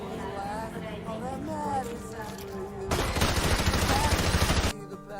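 Rapid automatic gunfire from the Call of Duty video game, an AR-15-style rifle firing a loud sustained burst after a stretch of game speech and music, then cutting off abruptly.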